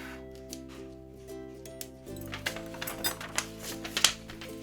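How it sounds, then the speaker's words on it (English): Scissors cutting a corner off paper for a planner decoration, a series of quiet close snips and paper rustles that grow busier in the second half, over a faint steady background hum. "So I'm going to cut that corner off"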